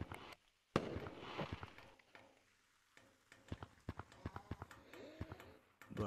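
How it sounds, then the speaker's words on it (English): Fireworks shot from an item in the video game Gorilla Tag: a sharp burst followed by a series of crackling pops and sputters, fairly faint, with brief quiet gaps between them. "Zachary, I didn't know this thing shoots real like fireworks like watch."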